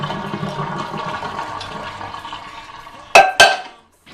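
Water from boiled potatoes is strained off in a kitchen, a gushing splashy pour fading away, then two sharp clanks of a pot or colander close by.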